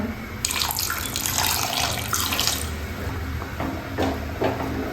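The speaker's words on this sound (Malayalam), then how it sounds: "കുറച്ചുകൂടി വെള്ളം ചേർക്കാം" Water runs steadily from a tap or vessel into ground curry paste for a Kerala-style curry, a continuous close splashing pour lasting the whole stretch with no talk.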